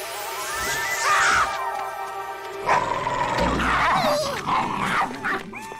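A pet dog named Rex growls and barks in a cartoon scene, the rough growling and short yips close and loud, rising in bursts over about six seconds with no talking.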